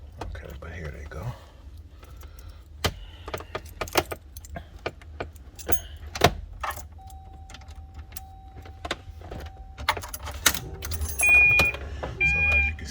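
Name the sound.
keys jangling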